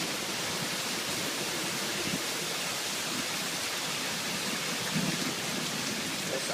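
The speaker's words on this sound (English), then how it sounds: "Look at that rain." Heavy rain falls in a dense, steady hiss that goes on without a break, with faint thumps of drops hitting nearby surfaces.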